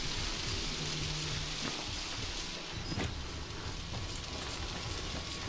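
Steady rain hisses at low volume throughout a scene in the horror video game Outlast, with faint low rumbles and a brief tonal sweep mixed in.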